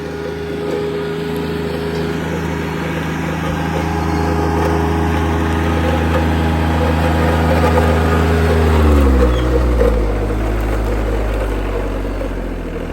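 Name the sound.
Rural King RK24 compact tractor driving between trees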